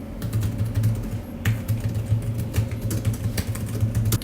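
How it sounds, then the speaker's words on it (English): Steady typing on an iClever tri-fold backlit keyboard: rapid, light key clicks run continuously over a constant low hum, close and clear with no voices. "So of course we could be typing on here."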